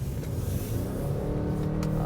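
A Ford Maverick Hybrid pickup truck accelerates hard, its engine droning loud and close with a steady rising tone and no voices.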